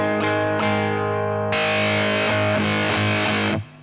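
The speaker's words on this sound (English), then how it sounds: "It's quite a bright fuzz." An electric guitar plays through a Fulltone Soul-Bender fuzz pedal into a clean amp with the guitar volume fully up. Sustained, bright, buzzy fuzz chords are re-struck, then cut off abruptly.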